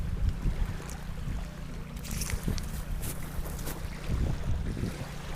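Strong wind gusting at a campsite on Mosquito Lagoon in central Florida, a constant low roar with bursts of flapping and rustling nearby, no talk.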